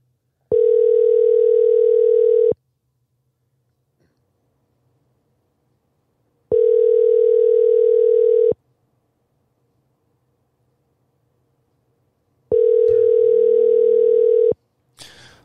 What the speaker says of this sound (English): Looks like Young Pippa's not answering.